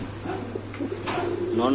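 Pigeons scuffle and peck at each other in a pen of red Bombay and Damascene birds, with soft cooing and flutter close by under a voice.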